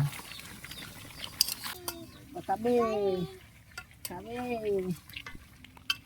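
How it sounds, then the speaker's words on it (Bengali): A spatula scrapes and stirs duck meat as it browns in a wok, giving intermittent metallic scraping and faint sizzling, with people talking over the cooking. "সেও একটু খুন্তি দিয়ে নাড়াচাড়া করছে"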